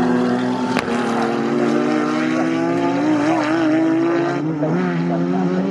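Historic touring race cars, a Rover and a Boss Mustang, racing at Snetterton, loud sustained engine roar with rising and shifting pitch as the cars pass close by.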